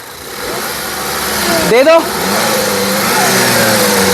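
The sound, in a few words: Skoda Superb car engine starting and revving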